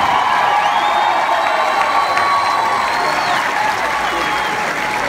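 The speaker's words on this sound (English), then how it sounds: "Fans, let's have a nice round of applause for Texas A&M for their great accomplishments this season." Stadium crowd at a college baseball Super Regional applauds Texas A&M, with sustained clapping, cheers and whoops blending into a dense roar throughout.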